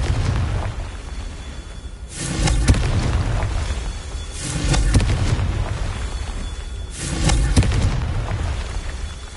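Three loud explosive blasts from the Confringo spell in Hogwarts Legacy, evenly spaced a couple of seconds apart. Each is a sharp, roaring burst that fades back into a low ambient rumble.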